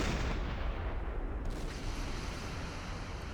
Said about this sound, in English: That's exactly what I was looking for. Some more explosions